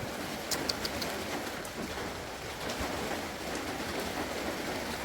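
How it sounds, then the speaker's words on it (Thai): Steady rain falls with a continuous hissing patter, fairly faint and even throughout, with a few brief higher splashes near the start. "มันนี้ฝนตก"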